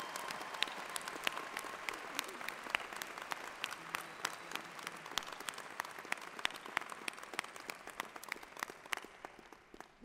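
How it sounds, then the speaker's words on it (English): An audience at a university winter commencement ceremony for doctoral candidates claps steadily, a dense sustained wash of applause from a large crowd, somewhat distant and fading slightly toward the end. "Please join me in applauding the achievements of these amazing doctoral"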